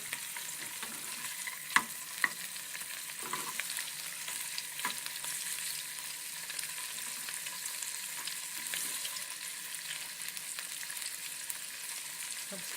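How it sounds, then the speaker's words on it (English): Squid tentacles fry in a hot pan with a steady crackling sizzle, broken by a few sharp pops and light stirring clicks, close and fairly quiet with no voices. "Now, we'll just fry the tentacles,"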